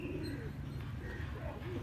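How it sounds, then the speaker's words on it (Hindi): Fancy pigeons cooing together in a loft, low soft rolling coos overlapping continuously, close and fairly quiet. "मैंने खुद फैंसी कबूतर रखे हुए हैं।"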